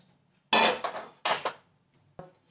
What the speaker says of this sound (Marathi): गॅसवरती तवा ठेवला आता.